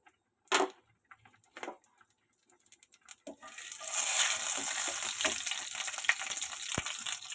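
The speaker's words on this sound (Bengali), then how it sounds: "এবার ওই তেলেই আমি কালো জিরেটা ফোড়ন দিয়ে দেবো।" Black cumin seeds hit hot oil in a pan just used for frying fish, bursting into a loud, steady sizzle that crackles on for several seconds after a few scattered clinks and taps.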